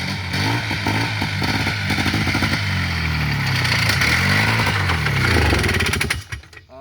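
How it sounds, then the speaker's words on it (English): A Polaris 4x4 utility vehicle engine runs rough with a dirty carburetor, a loud, uneven sputtering drone with wavering pitch and clattering, close by, cutting out near the end. "That carburetor does not sound happy."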